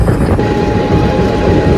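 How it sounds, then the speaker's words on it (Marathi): Passenger train running fast on the tracks on a long Pune to Shimla journey, heard from on board as a loud, continuous rumble and roar with steady wheel noise and no talk. "पण आता ट्रेन परत फास्ट झाली आहे"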